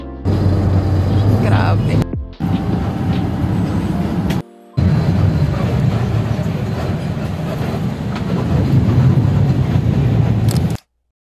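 A Philippine commuter train at rush hour rumbles steadily and loudly nearby, with broad rolling noise, brief cut-outs and a sharp high squeal near the start.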